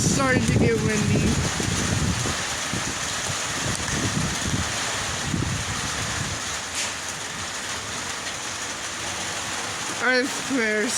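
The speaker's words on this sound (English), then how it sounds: "I swear it's starting to get very windy." Wind gusts during a night thunderstorm, a broad rushing roar buffeting the microphone, with rain mixed in and brief voices at the start and near the end.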